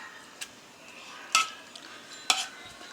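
Soft cooked carrots are mashed and stirred in a pot for carrot halwa, making a few quiet scrapes and sharp clinks of the utensil against the metal over a low background.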